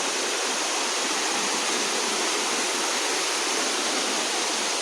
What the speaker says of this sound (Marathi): आवाज येता पळया. हो पळया वॉटरफॉल.